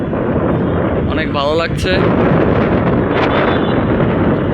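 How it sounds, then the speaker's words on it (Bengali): Strong wind with rain buffets the microphone in a heavy, continuous roar, while a person briefly speaks over it. "ওরে বাতাস আমাকে ঢেলে ফেলে দিচ্ছে।"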